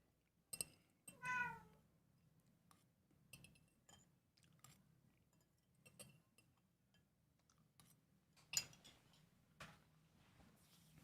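A faint cat gives a short meow, followed by scattered soft clicks and small ticking noises in an otherwise quiet room, with one more brief sharp sound later.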